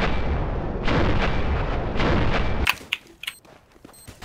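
A grenade in a video game is shot and explodes, a dense booming blast rolling for a couple of seconds, then cut off sharply and followed by a few scattered snappy pops and crackles.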